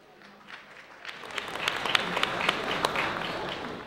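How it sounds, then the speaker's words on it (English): Wedding guests applaud after a best man and maid-of-honour speech, a soft, steady patter of many hands at a moderate distance that swells and thickens toward the middle. "one more time, a round of applause"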